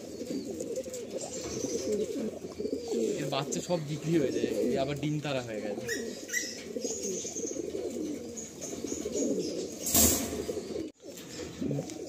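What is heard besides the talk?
Kashmir Doma pigeons cooing and flapping wings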